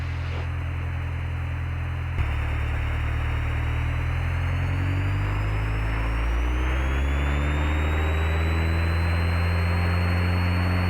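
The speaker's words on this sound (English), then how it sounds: "Power's full, engine instruments good, airspeed's alive." Small airplane engine at full power on takeoff, a loud steady drone that steps up sharply and then climbs slowly in pitch, heard from inside the cockpit.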